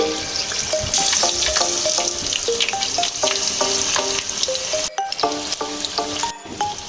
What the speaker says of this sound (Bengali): স্যান্ডউইচটা আমি তেলে ছেড়ে দিচ্ছি।